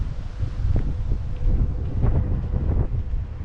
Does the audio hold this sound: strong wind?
yes